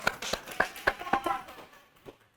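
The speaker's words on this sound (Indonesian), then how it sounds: "Tepuk tangan untuk Konserva TV dong." A few scattered, separate hand claps from a small audience for a TV crew, quiet and thinning out toward the end.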